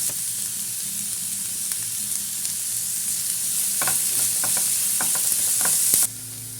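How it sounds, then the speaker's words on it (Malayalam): Sliced onions with garlic, ginger and green chilli sauté in oil, a bright steady sizzle with a series of sharp spatula scrapes and clicks in the second half before the hiss drops abruptly. "ഇനി സവാള ഇട്ട് കൊടുക്കാം. നല്ലോണം ഒന്ന് വാട്ടിയെടുക്കാം കേട്ടോ."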